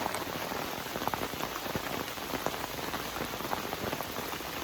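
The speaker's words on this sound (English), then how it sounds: "It's even a little wet under here because it's raining out." Rain patters and splashes onto a table beneath a shelter at a rainy campsite in Maine, a close, steady stream of small drops with sharper individual splats scattered throughout.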